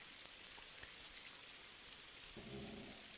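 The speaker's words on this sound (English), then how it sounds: "What are you doing out in the rain?" Steady rain hisses down across an outdoor farm field in the side-scrolling game INSIDE, a soft even patter with faint low rumbling underneath, continuous and fairly quiet throughout.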